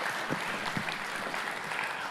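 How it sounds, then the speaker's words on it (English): A conference audience in a room gives a short burst of steady clapping, a dense patter of many hands at moderate volume with no voices over it. "So, round of applause for Ingrid."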